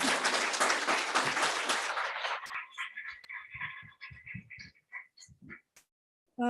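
Loud, dense clapping from an audience at a technology forum greets a song's lyricist, then breaks off after about two seconds, leaving scattered faint sounds and brief noises in a quiet hall.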